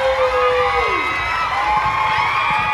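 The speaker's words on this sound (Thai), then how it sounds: "ขอเสียงปรบมือค่ะ" An audience cheers and whoops at a Miss Grand Bangkok–Saraburi 2024 beauty pageant audition. The cheering is loud and steady throughout, with a sustained tone ringing over the crowd.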